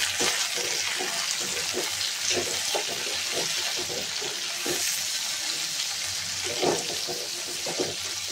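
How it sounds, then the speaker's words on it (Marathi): Tomatoes sautéing in a pan with cashews for matar paneer give a steady, close sizzle with occasional stirring scrapes throughout, with no one talking. "टोमॅटो पण आपण मऊ होईपर्यंत परतवूया।"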